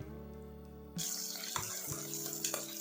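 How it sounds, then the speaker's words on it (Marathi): Chopped onion sautés in oil in a pan over a medium gas flame, a soft hiss that starts abruptly and holds steady with a few faint crackles, quiet and heard alone. "मध्यम गॅसवर आपल्याला हा कांदा तेलामध्ये थोडासा लालसर होईपर्यंत परतवून घ्यायचा आहे"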